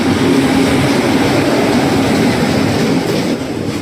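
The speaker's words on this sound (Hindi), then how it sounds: "फ्रेट ट्रेन क्रॉस कर रहा है।" A freight train rolls past close by at Aishbagh Junction, a loud, steady rumble of wagons that holds level throughout and eases only slightly near the end.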